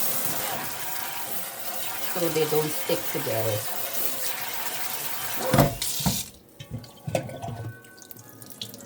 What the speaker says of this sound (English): I'm going to run some cold water